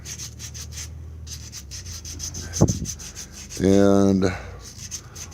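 Sandpaper rubs off a small nub on a wood-turned spinning top in quick, rhythmic strokes, close and clear, with a brief spoken word and a short vocal sound partway through.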